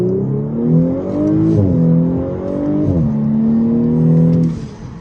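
A 2018 Audi S5 Sportback with a stage 1 tune and manual transmission accelerates hard from a standstill, its loud engine note rising steadily through the gears with clear drops at each of two shifts, heard from inside the cabin.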